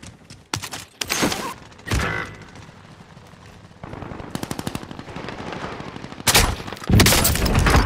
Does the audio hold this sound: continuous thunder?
no